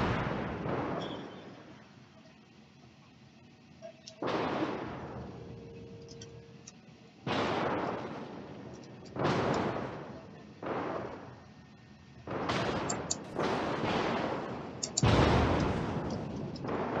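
Naval artillery booms in World of Warships, several heavy broadband blasts at irregular intervals over about seventeen seconds, loud and close, with rumbling decays between shots and no speech.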